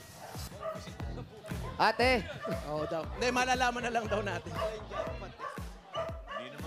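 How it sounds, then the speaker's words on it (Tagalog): Dogs in a Philippine street setting bark and yip several times in short bursts, mixed in among people talking and greeting each other throughout. "Lahat ng aso nyo nakatali."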